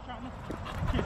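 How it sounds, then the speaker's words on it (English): A dog barks and whimpers close by amid excited shouting, with several people talking loudly over the short commotion as it approaches. "we got a dog coming"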